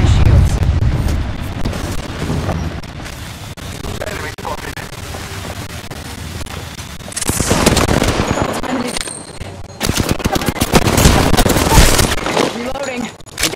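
In an Apex Legends arena match, a thermite grenade is thrown and bursts into a loud, crackling fiery rush amid sharp gunfire bursts, with in-game voice lines also heard.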